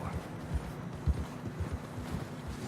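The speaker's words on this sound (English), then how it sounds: "Horse struggling." A horse labors through deep fresh snow in Red Dead Redemption 2, its hooves landing as soft, muffled, uneven thuds over low ambient wind.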